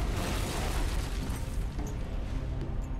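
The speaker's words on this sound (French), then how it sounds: "L'explosion de leur bombe perce une grande brèche dans la coque extérieure du navire" A bomb blast on a small boat strikes the hull of a warship anchored in the port of Aden, Yemen, heard as a loud, sustained roaring rumble that fills the whole stretch with no clear attack, with no voices.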